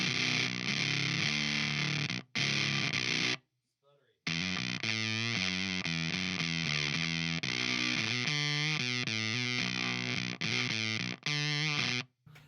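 A heavily distorted, gated fuzz guitar tone from a Frost Giant Electronics Soma pedal that cuts off abruptly between notes, sputtering and choppy, with brief silent gaps.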